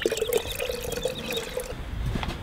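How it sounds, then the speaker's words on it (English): Water poured into a baby chicks' waterer, a short gurgling pour with a steady tonal fill for about two seconds, then trickling off; close by, no voices. "Pour some more magic water in there."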